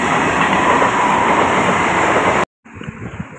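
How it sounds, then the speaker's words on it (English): A loud, continuous rumbling roar of a Mumbai local train rolling past nearby in monsoon rain, which drops off suddenly and then returns as quieter rail noise. "This is the first train."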